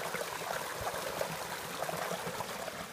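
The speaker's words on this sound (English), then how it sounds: "Little waterfall." Water from a small mountain waterfall runs and splashes in a continuous, even rush, moderately close, with no talking over it.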